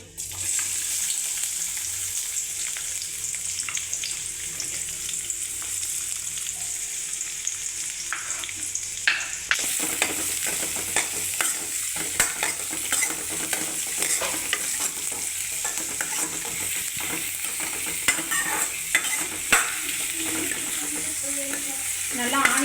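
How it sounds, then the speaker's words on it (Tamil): Onions sauté in a little oil with a bay leaf for egg kurma, a steady sizzle with frequent scraping and stirring clatter that turns busier and louder after the first few seconds, with no talking. "வெங்காயம் நல்லா வதங்கட்டும்"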